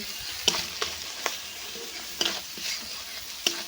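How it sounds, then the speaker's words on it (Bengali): Spices fry in hot oil in a pan for a prawn malai curry, a steady sizzle broken by about five sharp spatula strikes and scrapes as they are stirred, close and fairly loud. "মশলাগুলো একটু ভালো করে নাড়াচাড়া করে নেব মশলা ভাজা হয়ে গিয়েছে"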